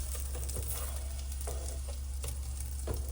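Slices of spam luncheon meat frying in a pan after being flipped, a steady close sizzle with a few light scrapes and clicks of a utensil; no one talks.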